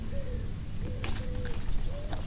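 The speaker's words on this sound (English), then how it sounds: "That was a pigeon in the background." A pigeon coos softly in the background, a few low, soft calls under a steady outdoor rumble with a couple of sharp knocks.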